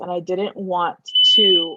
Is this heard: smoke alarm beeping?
yes